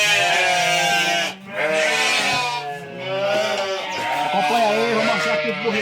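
Young lambs on a farm bleat repeatedly in wavering, overlapping cries, close and fairly loud, continuing almost without pause.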